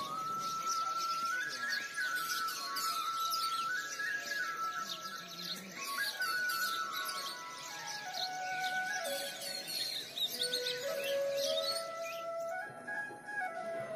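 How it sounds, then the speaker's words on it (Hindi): Birds chirp and whistle in a quiet Uttarakhand mountain village, with several overlapping calls and trilling, sliding notes repeating continuously at moderate distance. "शहरी चकाचौंध से दूर पक्षियों की चहचहाहट तथा साफ वातावरण"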